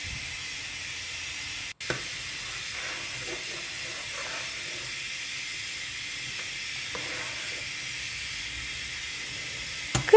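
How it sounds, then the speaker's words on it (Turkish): A pot of ashure, Turkish wheat pudding, boiling on the stove, giving a steady, even hiss of bubbling and steam that carries on unbroken with no voices. "Aşurem kaynamaya devam ediyor"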